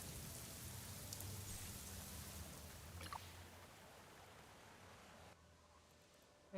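Steady rain falling in the video game AFK Journey, a soft continuous hiss of drops on surfaces with a faint low rumble beneath, quietly in the background and fading down near the end.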